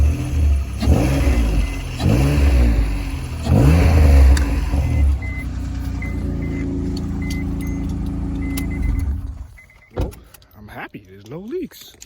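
A 7th-generation Honda Accord with exhaust leaks revs up close by in several raspy throttle blips, then settles to a rough idle as voices come in near the end.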